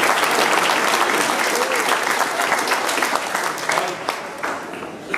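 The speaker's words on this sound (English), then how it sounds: "we'll give a big round of applause" Audience applause at a book launch for "An Poc Ar Buile" at Cork Opera House, Ireland: dense, steady clapping from a large crowd filling the hall, easing slightly toward the end.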